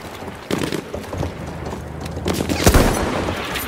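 Cavalry horses gallop through a Battlefield 1 multiplayer match, their hoofbeats loud and close amid bursts of gunfire and booming explosions, with a shouted voice over the din.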